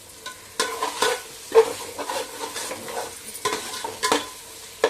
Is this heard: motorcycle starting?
no